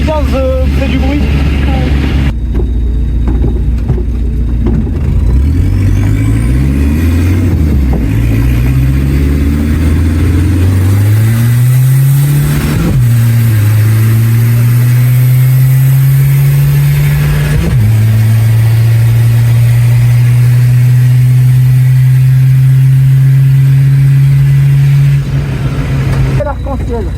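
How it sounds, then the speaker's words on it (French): A tired Citroën C15 with a worn engine mount revs hard and climbs through the gears at a run event, its engine note rising, dropping at each shift, then holding loud and steady close by. "Plus je tire, plus le C15 fait du bruit."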